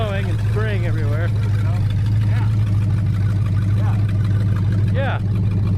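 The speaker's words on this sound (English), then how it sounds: "I'm making the engine work." A junkyard Chrysler car engine runs at a steady idle close by, a constant low rumble under people talking nearby.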